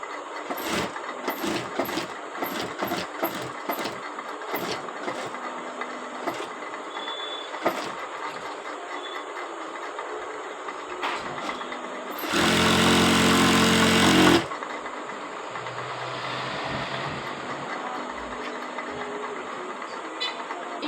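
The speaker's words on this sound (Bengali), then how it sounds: "এখন হচ্ছে আমি এইভাবে একটু রাউন্ড শেপ দিয়ে হচ্ছে সেলাই করে নেব" A sewing machine stitches a rounded band collar onto a dress, with scattered clicks and handling taps before a loud, steady two-second burst of machine running, then quieter fabric rustling.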